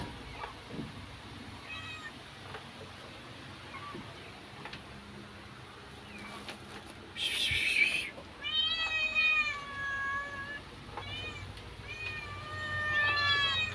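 Several high, thin kitten meows repeat in quick succession over a quiet background in a rural Philippine province, with a brief burst of hiss or rustle partway through.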